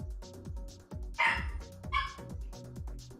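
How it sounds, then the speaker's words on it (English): A dog barks in two sharp, loud bursts, with steady lower background sound running under and between the barks. "Could you stop barking?"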